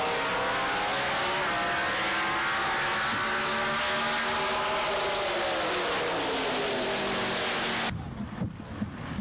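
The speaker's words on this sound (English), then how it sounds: "He's got a 598 Chevy on nitrous in a 78 Toyota pickup" A drag racing run by a 78 Toyota pickup with a 598 Chevy engine on nitrous, a loud sustained engine roar whose pitch climbs steadily through the gears, then cuts off abruptly to quieter background noise near the end.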